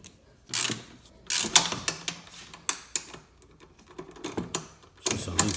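A ratchet with a 13 mm socket loosens bolts on a Polaris Slingshot, giving bursts of rapid clicking pawl ticks with short pauses between strokes, close and fairly quiet.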